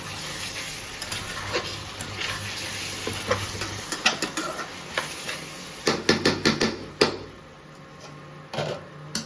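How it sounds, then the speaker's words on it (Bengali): Spices being stirred in a frying pan while cooking an ichor (young jackfruit) dish: scraping strokes and sizzling, with a rhythmic burst of close, sharp scrapes toward the end and no talking. "এবার দিয়ে দেবো মশলা, একবার নাড়িয়ে নিই।"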